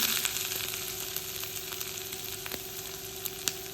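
Chana dal, broken dried red chilies and asafoetida temper in hot oil on a low flame, a steady close sizzle and crackle with a few sharp pops.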